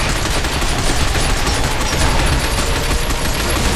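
Dense, continuous automatic gunfire in Binary Domain as soldiers shoot at the legs of advancing robots, a loud unbroken roar of rapid shots lasting several seconds.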